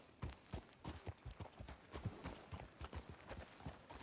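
Horse hooves clip-clopping at a steady walk in the video game Red Dead Redemption II, a crisp, regular rhythm of close, fairly quiet hoofbeats with no talk over them.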